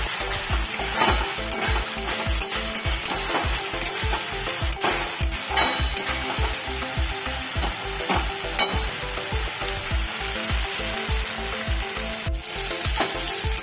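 Masala for a spicy rui fish curry fries in oil as a spoon stirs it continuously, a rhythmic scraping beat over a loud, constant sizzle.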